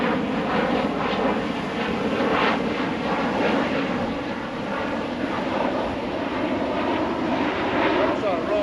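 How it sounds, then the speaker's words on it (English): A passenger airplane flies overhead, producing a continuous broad engine roar that stays steady throughout while people talk nearby. "Another damn plane that we should be on."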